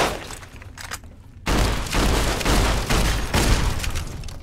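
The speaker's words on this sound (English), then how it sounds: "Let me pull out lever-action shotgun." Lever-action shotgun fired in Fallout New Vegas, Old World Blues DLC at the X-8 Research Center: a loud booming blast that opens a run of heavy, repeated gunfire bursts, close and dense, with no voices.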